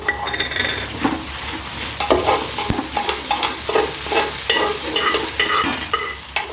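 Ginger, garlic and coriander paste is stirred into pav bhaji vegetables frying in a pan. A busy sizzle runs under repeated scraping and clinking strokes of a metal spoon, close and fairly loud, with no voices.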